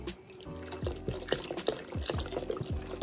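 Chicken broth pours into about 2.5 quarts of boiling water in a pot, a steady liquid splashing with a few louder glugs and drips, close and moderately quiet, with no talk.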